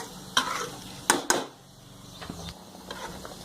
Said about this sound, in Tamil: லேசாக பொங்கி வந்து கொதி வர ஆரம்பிக்குது